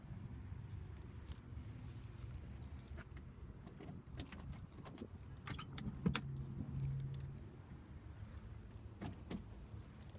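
An old American car door, on a Jeep being fixed, is handled near the microphone with jangling keys and a heavy thunk mid-clip over a steady low rumble, and nobody speaks.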